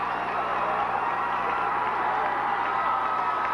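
A large arena crowd at a 1990 college cheerleading national championship cheers, claps and whoops for the University of South Carolina squad's routine, a steady dense roar with no pauses throughout.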